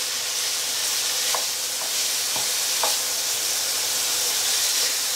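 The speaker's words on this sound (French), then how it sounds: "vous faites un peu dorer votre oignon aussi avant d'y mettre l'ail" An onion browns in a pan for a beef and carrot stew: a continuous loud sizzle and hiss, with a few faint clicks of stirring scattered through and no one speaking.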